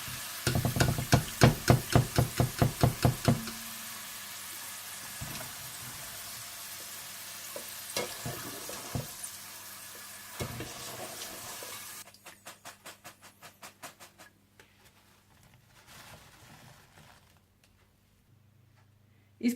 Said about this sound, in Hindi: और इस तरह से आप आलूओं को भी फ्राई करके निकाल लें।